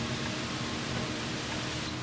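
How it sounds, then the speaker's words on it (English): Steady, broadband rushing noise with no breaks, like wind blowing outside, soft and constant throughout. "The wind outside."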